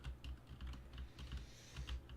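Faint typing on a computer keyboard, with a quick run of soft key taps in an irregular rhythm and no voices.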